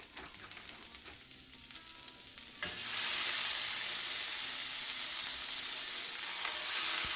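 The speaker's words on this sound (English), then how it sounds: "So I'm gonna add some onion and hamburger" Onion and ground beef hit a hot pan and burst into a loud, steady sizzle after a quiet moment, frying continuously with a bright hissing crackle and no talking.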